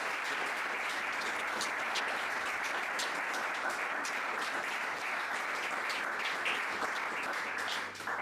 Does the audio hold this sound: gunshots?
no